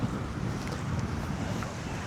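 Strong wind at Bang Phra Reservoir buffets a DJI Mic Mini, producing a loud, continuous roar of rumbling microphone wind noise that fills the whole stretch without letting up.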